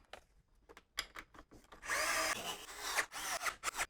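Power tool tightening bolts on a pillar reinforcement, quiet clicks and handling taps first, then a couple of short, fairly close whirring bursts from the tool.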